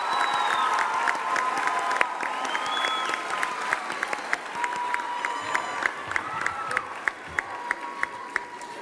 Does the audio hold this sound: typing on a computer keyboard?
no